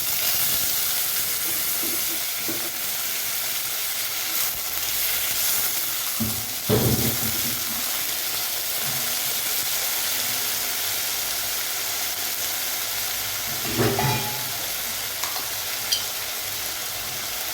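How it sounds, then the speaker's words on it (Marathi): Curry leaves, green chilies and potatoes frying in hot oil for sabudana khichdi give a steady broadband sizzle, with a few louder crackling bursts and spoon stirs near the middle and end. No voices are present. "तेल छान तापलेलं आहे. आता आपण त्यात 4-5 कढीपत्ते आणि मिरची आणि बटाटे."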